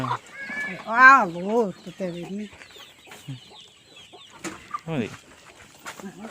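Chickens cluck in short rising and falling calls, loud and close, with a few squawks, and a person talks quietly between them.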